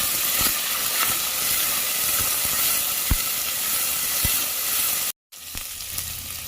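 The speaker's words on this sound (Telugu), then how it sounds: "కొత్తిమీర కొద్దిగా పుదీనా ఆకులు కొన్ని వేసుకొని ఫ్రై చేసుకోవాలి" Tomato, coriander and mint leaves fry in a pan with a steady, close sizzle, broken by a few sharp clicks of a utensil and a brief cut to silence near the end.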